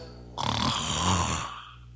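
A preacher imitates snoring during a sermon: one long, rasping, drawn-out snore lasting about a second, loud and close, with no other sound around it.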